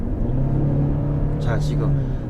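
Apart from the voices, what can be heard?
Genesis GV70 2.5T four-cylinder gasoline engine revving uphill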